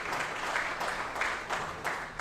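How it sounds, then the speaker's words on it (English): Steady applause from an audience at a mining club gathering, welcoming University of the Philippines students, with a dense, even patter of many hands held at a moderate level throughout. "Let's give them all a warm round of applause."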